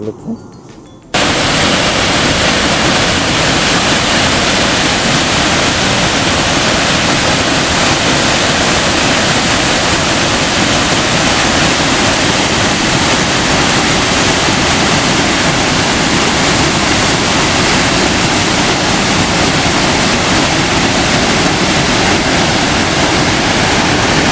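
Chitrakoot waterfall roars as a loud, dense, unbroken rush of falling water that starts suddenly after a quiet first second and stays constant and close.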